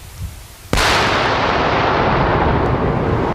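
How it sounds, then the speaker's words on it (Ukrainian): Several anti-tank mines detonated together by sappers: a single powerful blast erupts suddenly and loud, followed by a long rumbling roar that fills the air for several seconds before cutting off. "сапери готуються до підриву одразу кількох знайдених протитанкових мін. Вибух!"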